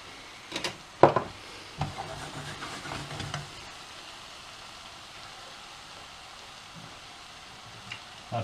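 Leeks soften in olive oil in a pan with a faint, steady sizzle, close by, after a few sharp clinks and stirring knocks at the start.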